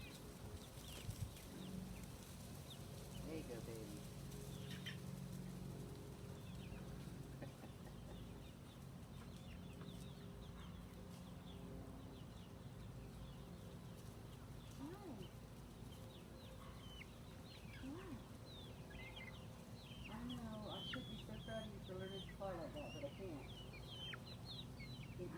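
Brown chickens cluck softly in a backyard coop over a long stretch, scattered calls rising now and then while a person talks to them quietly.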